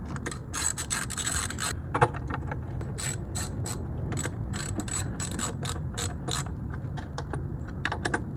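A ratchet tightens the valve cover bolts on a 2002 Mitsubishi Galant, producing bursts of quick, rapid clicking close to the microphone that pause and start again throughout.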